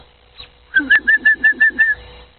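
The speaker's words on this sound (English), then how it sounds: "I guess the robin decided to ignore me" A robin leaving its perch on an evening outdoor walk: a short, close burst of seven rapid, evenly spaced pulses, alone and clear, then quiet.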